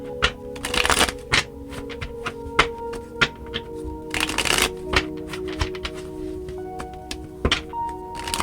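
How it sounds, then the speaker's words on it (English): Tarot cards are riffled and tapped in quick bursts, with crisp shuffling flurries separated by short pauses and sharper knocks, close and clear. "3 more shuffles."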